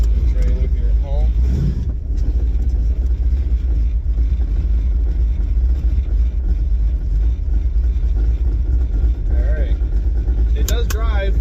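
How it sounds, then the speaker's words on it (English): A Pontiac Firebird car backing slowly off a trailer at home, its engine a low steady rumble close by, with someone talking over it throughout. "now I'm backing it off the trailer here at home"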